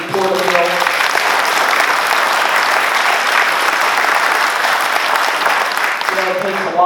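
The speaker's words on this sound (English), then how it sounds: "give Kathy a round of applause for her support of Bill" A crowd at a Beefmaster cattle gathering gives Kathy a round of applause, loud and dense clapping that runs steadily for several seconds, with a voice briefly at the start and end.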